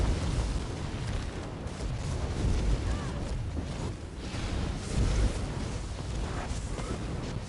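Meteor barrage explosions in a video game boss fight, a continuous rumbling roar with repeated heavy impacts swelling and fading over several seconds, no speech on top.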